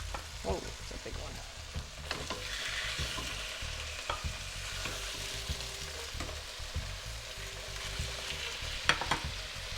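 Chicken thighs browning in a pan for chicken mole, a faint, even sizzle with light stirring and occasional taps, fairly quiet, no talking.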